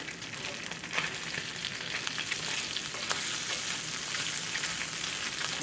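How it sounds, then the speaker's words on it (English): Braised cabbage and pulled pork cook in a pan with a steady, dense sizzle and bubbling, moderately quiet and close, with no talk over it. "You can see this is just cooking away beautiful."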